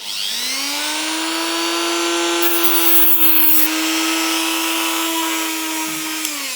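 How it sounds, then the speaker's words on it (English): A rotary tool such as a Dremel grinds down a plastic edge on a tricopter frame, giving a steady high-pitched whine that holds constant and close for several seconds. "we can sand that off, or you can use a Dremel"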